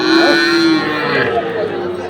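A young Sahiwal bull calf being fattened for sale at Ambari cattle market gives a loud, close, drawn-out moo, with faint crowd chatter in the background.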